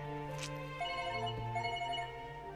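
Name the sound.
telephone ringing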